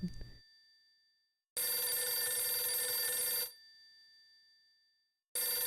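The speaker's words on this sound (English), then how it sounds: "Damn, this is a bad time for the phone to ring." A telephone rings in the video game Last Window, its bell-like ring coming in two long bursts with a silent gap between them, loud and clear with no talking over it.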